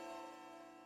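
A bell rings in the Spirit Hunter: Death Mark 2 video game, one sustained, resonant tone with rich overtones that hangs steadily and fades only slightly, faint and alone with no talk.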